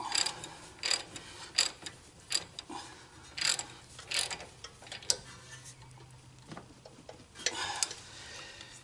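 A ratchet wrench clicks in repeated bursts while loosening the large 19 mm caliper bracket bolts on the front brakes of a 2008 Honda CR-V, with sharp metallic ticks close up and no talking.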